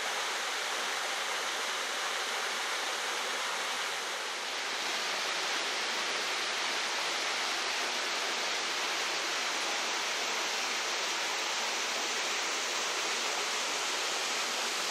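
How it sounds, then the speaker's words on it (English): Gun Brook spills off a small rock ledge in a steady, loud, unbroken rush of falling water, close by with no other sounds. "Gun Brook drops off another small rock ledge."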